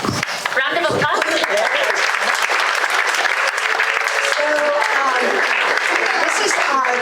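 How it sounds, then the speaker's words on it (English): Audience applause at a community storytelling event, dense clapping that runs steadily throughout, with cheers and voices mixed into the crowd noise. "Round of applause."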